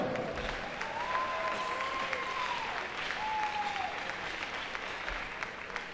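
Crowd applauding at a college men's hockey senior night in an ice arena, sustained steady clapping with faint tonal whistles or cheers drifting over it.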